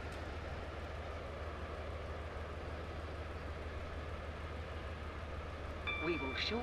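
An HST Class 43 train runs in a train-driving video game, giving off a steady, even low rumble and rolling noise that swells slightly near the end, where a brief tonal chime sounds.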